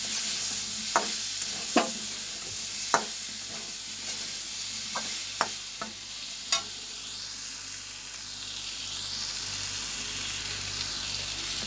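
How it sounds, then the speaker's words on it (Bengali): Fish roe fritters fry in oil with turmeric, giving a steady close sizzle punctuated by several sharp clicks and scrapes of stirring, with no talking. "হলুদ দিয়ে একটু ভেজে নেব।"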